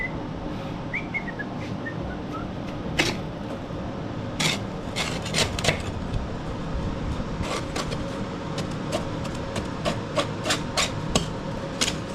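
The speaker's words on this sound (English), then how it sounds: "Scrape that bit real quick." Scraping debris and rust off the deck of an MTD push mower, a continuous close rasping scrape with scattered sharp metallic clicks and knocks throughout, no talking.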